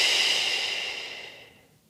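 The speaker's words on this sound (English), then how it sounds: "We'll do 3 big breaths here." A single long, close, airy exhale during a foam roller stretch, loud at first and then fading gradually to quiet.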